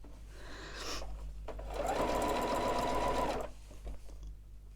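A sewing machine stitches bias binding onto a Christmas stocking panel in a close, steady mechanical whir that swells for a couple of seconds, then slows into a few short stitching bursts.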